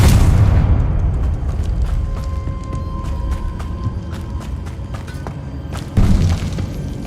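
A fiery Confringo spell explodes in the Hogwarts Legacy game with a loud, deep boom that rumbles and decays, then a second, sharper blast lands near the end.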